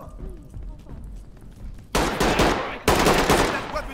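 Gunfire erupts in the tactical shooter Ready or Not: two loud, close bursts of rapid shots crack in after a quieter stretch of background speech and room noise.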